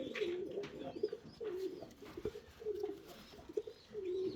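Several Sensi pigeons coo in a loft, low throaty coos repeating in a steady rhythm over soft background rustle, with faint higher chirps from other birds now and then.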